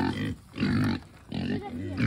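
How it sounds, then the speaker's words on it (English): Pigs on a farm grunt loudly in bursts, roughly three heavy rounds of grunting and snorting close by, with brief quieter gaps between them. "These pigs are loud."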